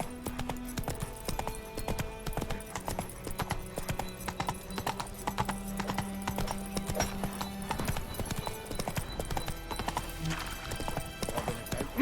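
Roach the horse from The Witcher 3 gallops in steady rapid hoofbeats throughout, loud and close, with an occasional whinny and no talk over it.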